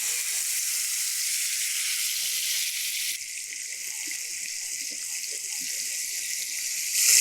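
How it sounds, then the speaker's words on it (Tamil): Ground mint paste hits hot oil with popped mustard seeds and dried red chillies, giving a loud, continuous sizzle and hiss that dips briefly, then flares up again at the end. "இதில் நம்ம அரைச்சிட்டு வந்திருக்க இந்த புதினாவை ஆட் பண்ணிடலாம்"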